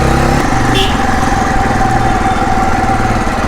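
Modified Bajaj Pulsar 220 motorcycle engine running loud and close, a steady buzzing drone at high revs holding throughout with no pauses.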